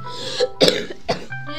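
A person coughs a few times in short, harsh bursts close to the microphone, with a throat-clearing quality.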